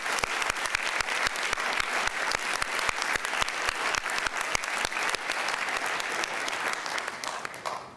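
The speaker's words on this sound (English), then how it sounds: "One more time, let's give it a round of applause." A large audience claps warmly at a panel event on lost Holocaust music. The applause is dense, sustained and even, then tapers off at the very end.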